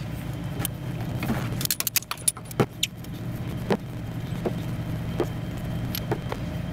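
Spark plugs come out and go back into a 1976 Datsun 280z engine, with sharp metallic clinks and rattles of the socket and plugs bunched in the middle, then a few scattered single taps over a low steady hum.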